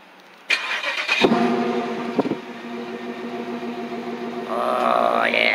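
A Chevrolet Impala SS is started by remote start: a click, then the engine cranks and catches, drops to a rumbling idle with a slight whistle and finally revs up, loud and close, with no talking.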